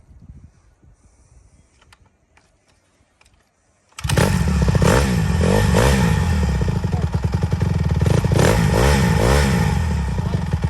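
A dirt bike engine, from a collection including a Honda CRF110R, CRF150 and KTM 50, fires up after a kick-start at about four seconds and runs loud and close, revving in repeated bursts, with faint talk before it catches.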